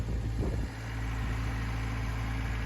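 The Perkins diesel engine of a Claas Dominator 56 combine harvester idles steadily at close range, a low smooth rumble with a faint high whine above it.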